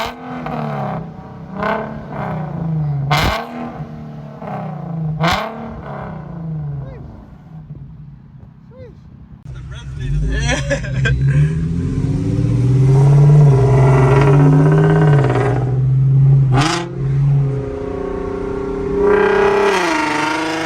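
Infiniti G37 with a muffler delete driving and revving, its loud, raspy exhaust swelling and falling through a sustained rev in the second half, with people talking over it early on.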